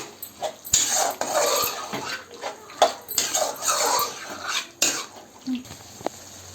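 Chicken pieces stirred into a thick gravy in a metal cooking pot, giving repeated close scraping and clinking of a utensil against the pot with soft wet sloshing in irregular bursts.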